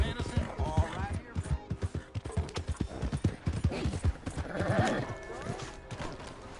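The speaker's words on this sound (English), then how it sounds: "My horse!" Horse hooves clip-clop steadily in a video game, a close rhythmic run of hoofbeats with a whinny partway through and game voices and ambience underneath.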